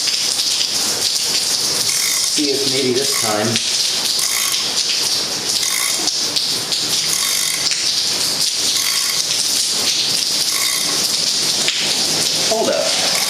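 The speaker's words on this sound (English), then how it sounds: "It's pouring rain here in Florida." Pouring rain in Florida drums steadily on surfaces close by, a dense, constant hiss. Someone talks briefly over it and some clicking tool sounds come through.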